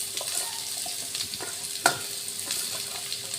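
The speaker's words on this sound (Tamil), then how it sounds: "பரங்கிக்காயை சேர்த்த பிறகு கொஞ்சம் நல்லா வதக்கிக்கொண்டேன் கொஞ்சம் நல்லா எண்ணெயில் கொஞ்சம் வதக்கிக்கோங்க" Pumpkin pieces sauté with onions in oil in a pan, giving a close, steady crackling sizzle with intermittent scrapes and one sharp clack of the spoon.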